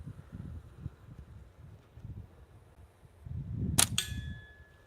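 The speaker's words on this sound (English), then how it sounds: "I don't typically shoot clay a whole lot until here lately" A shotgun fires at clay targets outdoors: one sharp, loud blast near the end, with a quick second crack right after it, over steady low wind and rustle.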